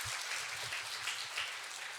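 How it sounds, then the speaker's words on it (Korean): Korean church congregation at a Friday evangelism service claps in praise to God, a brief, dense burst of applause filling the room evenly, no voices over it. "모든 영광 하나님께 박수로 영광 돌리겠습니다."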